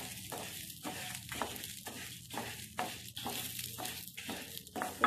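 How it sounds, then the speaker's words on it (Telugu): Flax seeds frying in a pan for avise ginjala podi, stirred as they heat: a soft, continuous sizzle broken by rhythmic spoon sweeps roughly every half second, fairly quiet and close. "ఫ్రై అయిన కొద్దీ చిట్టుపట్లాడుతూ ఎగిరిపోతూ ఉంటాయి"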